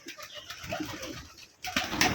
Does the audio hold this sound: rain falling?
no